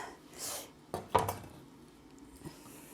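Food tipped into a frying pan with a few brief clattering knocks and a soft scrape, close and fairly quiet, over a faint hiss.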